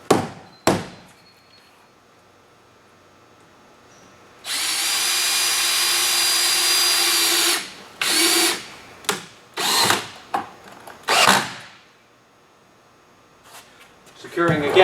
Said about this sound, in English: Securing again, screwing down the back wall.